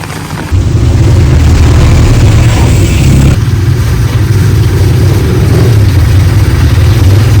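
A small motor tricycle engine idles loudly and close, a steady chugging drone with a brief rise in pitch partway through.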